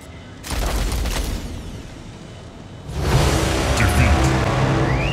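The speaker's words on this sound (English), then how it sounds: "Incoming fire." Incoming weapons fire in the mech combat game Mech Arena, a loud, dense rush of booming blasts and whooshing projectiles that swells in two waves, with a voice speaking over the action.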